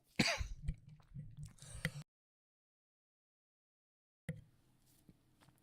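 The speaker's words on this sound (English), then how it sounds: "I need to stop coughing." A person clears their throat and coughs a few times in quick succession, close up, followed by a long silence and a faint thump.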